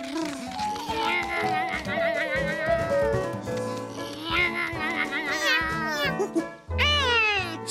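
A cartoon cat meows repeatedly in an animated children's show, several drawn-out rising and falling cries over a busy bed of background music and effects, loud and close.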